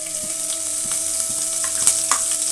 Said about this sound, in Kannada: ಹಸಿಮೆಣಸಿನ್ಕಾಯಿ ಹಾಕ್ತಾಯಿದ್ದೀನಿ.